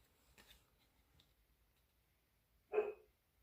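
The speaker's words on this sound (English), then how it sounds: "My dog is barking in the background." A dog barks once in the background, a single short distant bark following faint ticking sounds in an otherwise quiet room.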